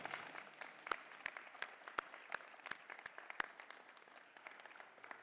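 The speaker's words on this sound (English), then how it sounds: "I think we should clap for that" Sparse, scattered clapping from an audience at a San Francisco State University convocation, individual claps ringing out distinctly and rather quietly over a few seconds rather than building into a full ovation.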